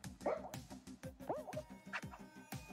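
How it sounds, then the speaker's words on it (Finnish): A pet dog barking indoors, a quick series of sharp, yappy barks and yips in an irregular rhythm, fairly faint and somewhat distant from the microphone. "Jos haittaa tuolla haukunta, niin se on mun koira."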